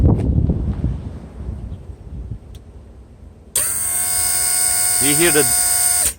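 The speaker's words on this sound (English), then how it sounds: "Pump is going to spin a little slower" Partway through, the soft close assist pump motor on a Mercedes W140 starts with an abrupt steady electric whine and hums at an even pitch, close up, after quieter outdoor wind and rustle; a voice speaks briefly over it.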